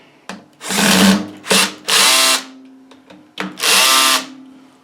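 A power drill drives screws into a furnace ECM motor during repair, three loud close bursts of whirring, the last two longer, separated by brief pauses.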